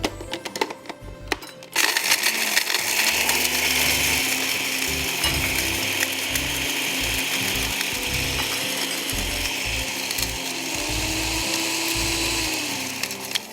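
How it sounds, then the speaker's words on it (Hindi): An electric spice grinder crushing whole coriander seeds and dry red button chilies, running in a steady, loud, rattling whir that kicks in abruptly after a brief lead-in and continues without pause. "ग्राइंड कर दें।"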